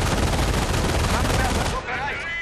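Loud, dense gunfire in the Company of Heroes: Tales of Valor strategy video game, a continuous barrage of shots that eases slightly toward the end.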